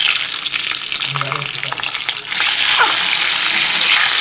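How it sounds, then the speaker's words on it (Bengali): Boiled eggs go into hot oil in a pan just used for frying potatoes for a spicy egg curry. A moderate sizzle swells abruptly into loud, close, crackling frying partway through. "এবার এর মধ্যে ডিমগুলো ভেজে নেব ভালো করে।"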